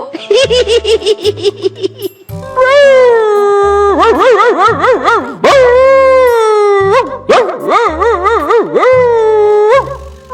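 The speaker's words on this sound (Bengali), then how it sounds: "এই কুকুরটা আবার কোথা থেকে এলো?" Loud, wavering dog howls rise and fall in drawn-out wails, repeating in bursts over a rhythmic, bouncy backing beat, in a cartoon.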